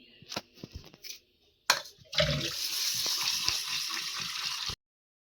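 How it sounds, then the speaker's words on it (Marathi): Water pours steadily for a couple of seconds while chopped spinach and baby potatoes are rinsed, after a few short knocks and clatters of handling, then stops abruptly. "3 पाण्यानं धुवून घेते."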